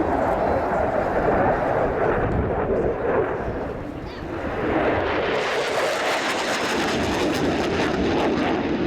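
A Polish Air Force MiG-29 jet performs at the RIAT 2016 airshow, its engines a loud, continuous broadband roar that dips briefly mid-pass, then swells back with a harsher, brighter edge.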